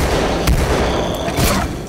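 Rapid bursts of gunfire in Call of Duty: Advanced Warfare's Supremacy zombies mode on the Carrier map, loud and continuous with a few sharper blasts standing out from the clatter.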